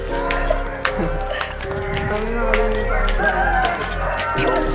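Rooster crowing in a yard, a drawn-out call heard over low background hum and brief voices nearby.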